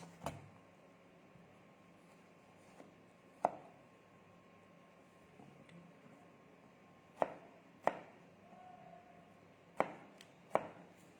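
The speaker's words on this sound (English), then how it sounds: "So like you just chop off the sides." A knife chopping the sides off a plum around its hard seed on a cutting board, sparse crisp knocks, several loud and a few fainter, over a quiet room hum with no speech.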